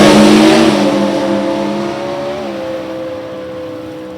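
A 4-cylinder Chevrolet Cobalt drag racing against a V8 at an NHRA Division 3 meet at Gateway Motorsports Park, loud engines revving hard at the launch and then easing off into a steady droning roar.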